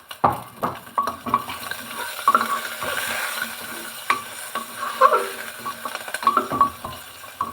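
Garlic and onions sizzle and crackle in a hot pan while being stirred, with scraping utensil sounds and occasional clinks, close up.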